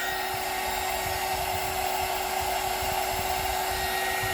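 A hair dryer runs steadily and close, blowing air to dry a watercolor holiday card painting, giving a constant whooshing hum with a faint tonal whine and no pauses or voices.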